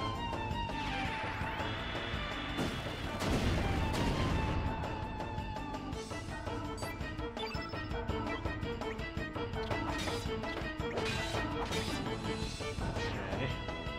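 A magma bomb element attack in the game Chrono Cross plays as a loud, dense crash with a rising whoosh, followed by a long sustained burst of rumbling, crackling impacts over game music.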